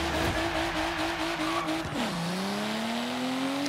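A car engine in the racing game Forza Horizon 3 holds a high, steady rev, then drops sharply in pitch and climbs again, with tire squeal mixed in. The sound is loud and continuous throughout.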